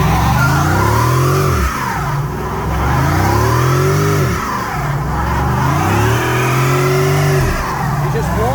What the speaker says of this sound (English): You're just warming up the tires.